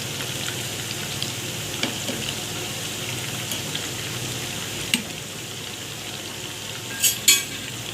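Chicken pieces fry in hot oil for a restaurant-style chicken fry, giving a continuous close sizzle with faint crackles and a couple of brief clatters near the end.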